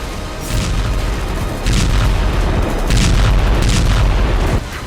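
Heavy bombardment is heard in war footage of Russian strikes on Ukrainian positions. Deep rumbling booms and blasts roll on continuously, loud and dense, with no talk.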